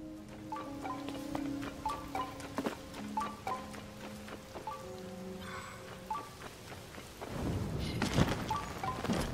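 A thunderstorm in the video game Zelda: Tears of the Kingdom: soft steady rain under a plinking game melody, then a loud close rumble of thunder swells near the end.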